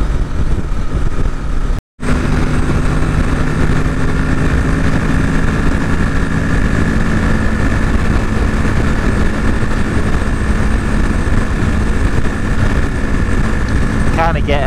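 A 2023 Kawasaki Ninja 650 motorcycle cruises on the road with a steady, loud engine drone and rushing wind noise that continue almost without a break.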